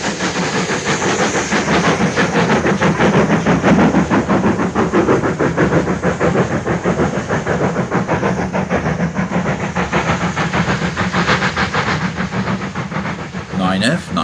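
An LMS 4F steam locomotive hauling a train up an incline chuffs steadily with a rapid, even beat, accompanied by rhythmic wheel and rail noise that stays loud and continuous.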